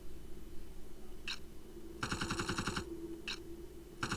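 The repeater arm cannon in the video game Blood Will Tell, firing short bursts: a single blip, a sustained rapid rattling volley of under a second, then two more brief bursts, over low background hum, with no voices.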